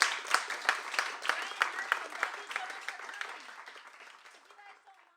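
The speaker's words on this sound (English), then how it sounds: "Big round of applause." An audience at a bookstore author reading claps steadily with scattered individual claps standing out, then the applause gradually thins and fades toward the end.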